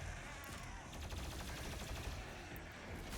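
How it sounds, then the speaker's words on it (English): Rapid gunfire from DOOM Eternal on Ultra-Nightmare in the Exultia level, aimed at an explosive barrel: a dense, steady stream of close shots and bursts filling the whole stretch, with no clear gap or lone blast. "So immediately just shoot the barrel and then burst it down."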